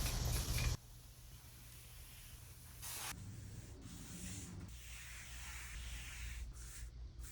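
A second coat of polyurethane is sprayed onto a handmade wooden console table, a soft continuous hiss heard close and fairly quiet, preceded by a short louder burst at the start.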